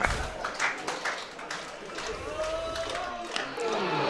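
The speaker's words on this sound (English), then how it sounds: "Adam Finch gets a round of applause." A cricket crowd claps for bowler Adam Finch during a Vitality T20 Blast match between Worcestershire Rapids and Northants Steelbacks, a broad scattered applause under a commentator's talk.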